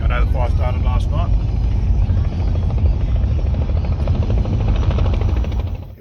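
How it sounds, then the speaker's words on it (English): Four helicopters work over a forest fire, their loud, close rotor chop thumping steadily while someone talks over it near the start. "here we've got 4 helicopters trying to put this mess out"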